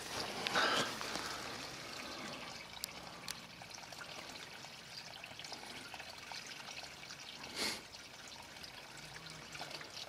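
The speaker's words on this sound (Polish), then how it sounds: "Ale woda cały czas płynie." Water runs steadily through an underground drain, a faint continuous trickle and rush with no pause, heard alone with a brief louder surge partway through.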